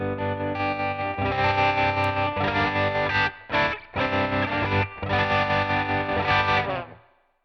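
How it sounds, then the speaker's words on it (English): Distorted electric guitar chords through a Headrush Flex Prime tremolo effect set to low depth play with a gentle, shallow wavering in volume, strummed in bursts with brief pauses before ringing out. "so let's bring down the depth."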